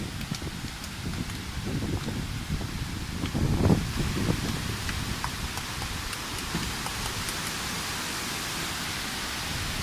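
Steady rain falls with gusting wind in a rural Thai farming setting, a dense continuous hiss and rumble with a brief louder gust or patter in the middle.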